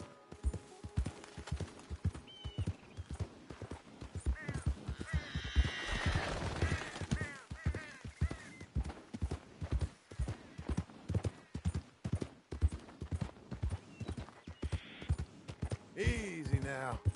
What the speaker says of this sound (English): A real beautiful horse.